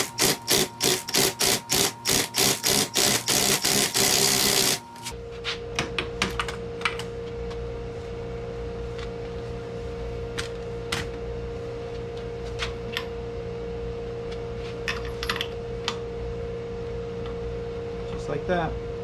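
An impact wrench hammers at the centrifugal clutch nut of a Honda Sportrax 250EX or Recon ATV, giving about five seconds of rapid, loud rattling bursts, then a lower steady hum with scattered light clicks and knocks.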